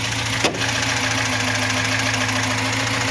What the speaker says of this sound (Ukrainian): Двигунчик, щоб ви розуміли, зараз працює.